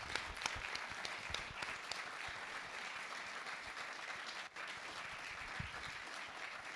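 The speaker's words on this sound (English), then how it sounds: "I think we should all give a hand of applause." A room of attendees at an AmsterdamJS winter party meetup breaks into dense, sustained applause, many hands clapping evenly throughout with no voices standing out above it.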